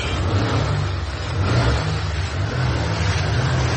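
An engine roars loudly and steadily close by as the throttle opens, rising slightly in intensity midway, with no talk over it.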